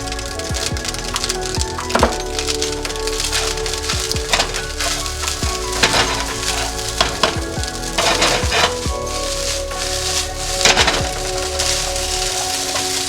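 Diced carrot and spring onion stir-fry in garlic butter in a hot pan, a dense busy sizzle with frequent sharp crackles and scraping spatula clicks, close and steady, no voices.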